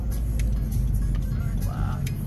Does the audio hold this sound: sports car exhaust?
yes